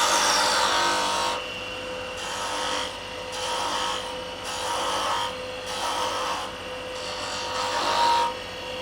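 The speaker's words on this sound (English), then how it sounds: "So let's go in and we'll just do some peeling cuts. Get rid of some wood real quick." A wood lathe turns a hollow-form jam chuck while a gouge takes peeling cuts, giving a loud, continuous rough scraping and shearing that swells and eases in regular passes, close and steady with no talking.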